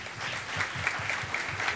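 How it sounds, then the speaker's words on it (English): A room of college staff clapping at a meeting, a brief even patter of many hands, moderately close with no voices over it. "Give yourselves a round of applause"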